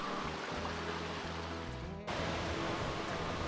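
Grotto Falls waterfall in the Great Smoky Mountains, heard as a steady, broadband rush of falling water with a brief dip near the midpoint before it continues unbroken.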